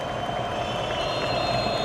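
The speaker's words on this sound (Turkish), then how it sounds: "Seyircilerin yoğun ilgi ve tezahüratı" Spectators at a Karaman FK versus İnegölspor league football match cheer and chant, a constant far-off stadium roar with steady tonal noise running through it.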